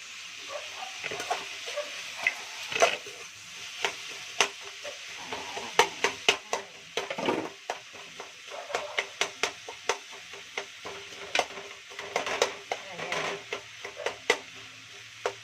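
Onions frying with salt in a pan for curry, with a spoon stirring and scraping to make irregular, close clinks and knocks over a faint, steady sizzle.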